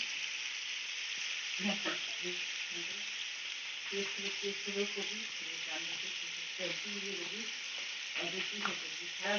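Spice paste of chili paste and turmeric frying in a pan, a constant bright sizzle with soft intermittent stirring scrapes, fairly quiet and steady, with no speech.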